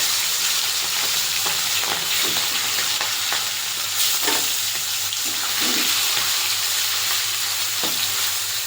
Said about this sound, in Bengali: চিংড়ি মাছটা খুব বেশি ভাজবো না, হালকা করে ভেজে নেব।